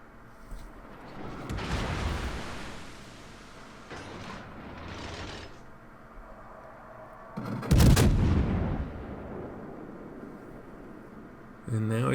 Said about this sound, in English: here goes an SAP salvo